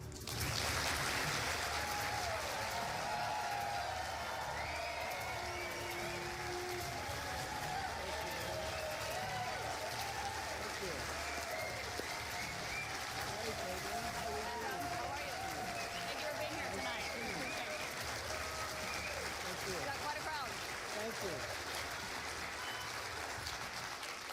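Applause and crowd noise from a television town hall audience in New Hampshire greeting former President Donald Trump, a steady dense roar of clapping and cheering that fills the whole stretch, with voices mixed in.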